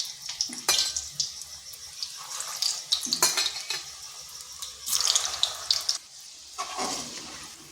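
Spicy-sweet bhaja pitha frying in oil, with bursts of bubbling sizzle and splashing swells as pieces are moved, alternating with quieter stretches, close and moderately loud.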